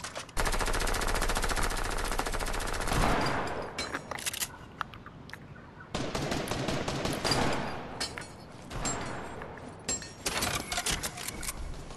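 Rapid automatic gunfire in the video game Fortnite comes in long loud bursts separated by brief pauses, sharp repeated shots dominating throughout with no talking.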